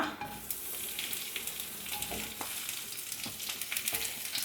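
Okra, green chillies and small shallots sauté in coconut oil for a Kerala-style sambar, a continuous close crackle and sizzle broken by frequent sharp spatula scrapes and taps; no voices.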